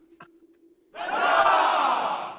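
A crowd cheering sound effect bursts in loud and sustained after a brief faint tone, a broad roar of voices that holds steady.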